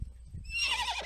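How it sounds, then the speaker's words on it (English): A giraffe creature in the Minecraft Giraffecraft mod gives one short, close, horse-like neigh that rises into a shrill whinny and lasts about a second. "I clicked on him and he neighed and it scared me."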